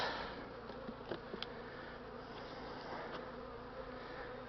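Honeybees buzzing around an open hive during an inspection, a faint steady hum with occasional louder passes of individual bees close by, and no voices.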